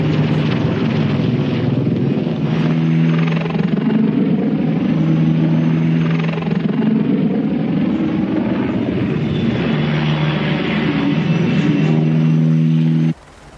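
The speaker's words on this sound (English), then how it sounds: "Nap-of-the-earth flying allows attack helicopters to literally sneak up on the enemy." An attack helicopter flies nap-of-the-earth just feet above the ground, its rotor and turbine producing a loud, steady throbbing drone with constant beating harmonics that holds for the whole stretch before cutting off abruptly at the end.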